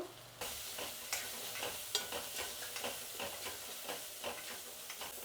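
Spices tempering in hot oil in a pan with turmeric for a potato filling, a steady close sizzle with repeated stirring scrapes and clinks throughout, no voices.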